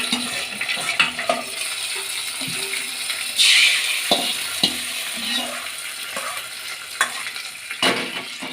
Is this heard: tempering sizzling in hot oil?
yes